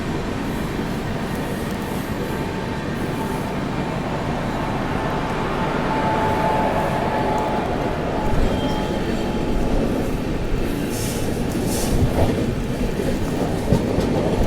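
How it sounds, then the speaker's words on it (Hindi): The Tamil Nadu Sampark Kranti Express, a Delhi–Madurai train, passes on an overtake. Its rumble and rhythmic wheel clatter run steadily and loudly throughout, with a few faint higher squeals near the end. "अभी यहीं ओवरटेक मार के आगे निकल रही है अपनी संपर्क क्रांति एक्सप्रेस"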